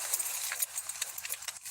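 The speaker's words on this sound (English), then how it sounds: "I had to actually take my key off of my keychain so that I can rattle it properly to get everything started." A single key taken off its keychain is rattled close by, giving bright, irregular metallic jingles in quick bursts for under two seconds with no voices.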